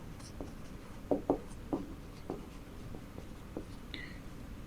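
Chalk or marker strokes on a board during a secondary-school trigonometry maths lesson, a series of short scratchy taps and scrapes spaced irregularly, close and fairly quiet over a low room hum.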